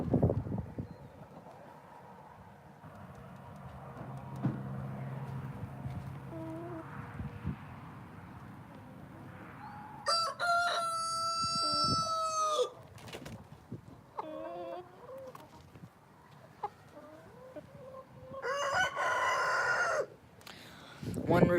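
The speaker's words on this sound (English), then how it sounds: "One rooster starts crowing, they all start." Several roosters crow one after another, loud and nearby, over a quiet farmyard background with some clucking.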